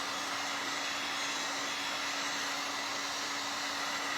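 A hair dryer blows steadily and loudly on a freshly applied stencil transfer for Easter bunny arch decor, one continuous whooshing drone with a faint steady hum and no voices.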